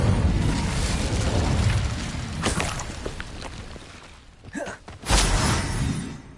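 The Incendio fire spell cast in the video game Hogwarts Legacy, a rushing whoosh of flame over a rumbling game backdrop, with sharper bursts and crackling pops toward the end.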